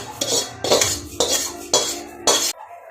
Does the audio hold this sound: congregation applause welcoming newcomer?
no